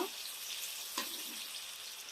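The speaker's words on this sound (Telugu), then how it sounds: "నెక్స్ట్ మనం ఇందులోకి ఆనియన్స్ వేస్తున్నాం ఉల్లిపాయలు" Onions frying in hot oil in a pan for a Telangana-style fish curry give a steady, close sizzle and hiss, with one brief louder crackle partway through.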